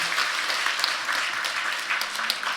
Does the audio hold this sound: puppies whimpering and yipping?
no